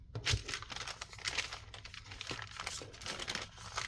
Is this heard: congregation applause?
no